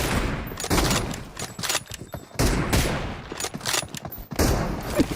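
Rapid bursts of gunfire from the mobile battle-royale game PUBG Mobile in a team deathmatch, loud and dense with several volleys separated by brief pauses, no talk.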